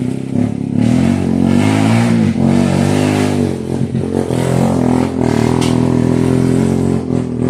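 A motorcycle engine revs loud and close, rising and falling repeatedly over several seconds with some mechanical clatter, with no talking over it.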